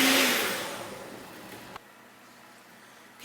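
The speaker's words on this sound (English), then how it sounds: "So I'm going to go ahead and use my hand mixer." An electric stand mixer whirs loudly while mixing gluten-free bagel dough, a steady motor drone that winds down, stops abruptly partway, then starts up again briefly at the end.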